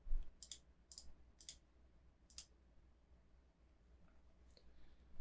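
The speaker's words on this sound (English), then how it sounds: "Oh, we got some people typing." People typing on computer keyboards during an online art lesson. Faint, quiet clicks come in a few short bursts early on, then trail off into near silence with an occasional stray tap.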